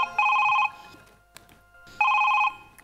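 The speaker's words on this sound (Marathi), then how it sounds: "फोन आला." A telephone rings in a comedy sketch at home, two bright electronic trills about a second and a half apart, each lasting half a second, with quiet gaps between.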